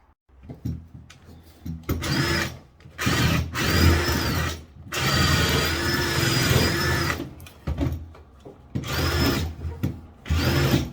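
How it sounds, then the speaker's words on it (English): Small power drill working in a tight cloakroom space, whining in repeated bursts with brief pauses between, close and fairly loud with no talking. "Got my drill stuck now, haven't I?"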